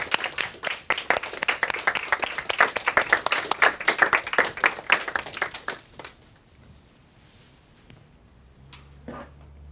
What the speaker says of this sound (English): we're going to give him a big round of applause